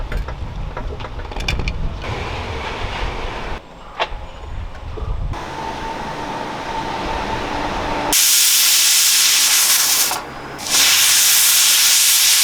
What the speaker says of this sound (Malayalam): കുക്കർ അടച്ച് വെച്ചിട്ട് കത്തിക്കാം